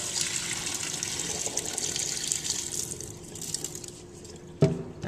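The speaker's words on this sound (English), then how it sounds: "Pour out all the dirty water." Rice rinsing water splashes and pours out in a steady gushing stream that thins toward the end, ending with a light knock.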